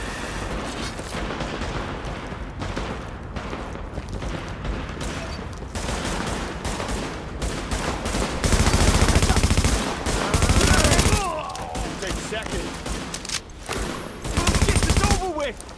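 Heavy gunfire in Tom Clancy's The Division, bursts of automatic rifle and machine-gun fire crackling near and far in dense, loud volleys that swell and ease across the stretch, with a game voice over the shooting.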